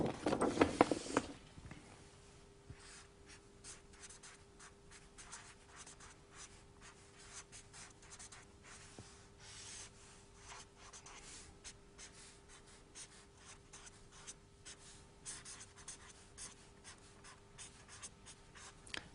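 Pen scratching steadily across paper while a maths expression is written out, a continuous close scribbling texture with small pauses, no talking.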